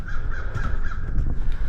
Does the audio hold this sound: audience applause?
no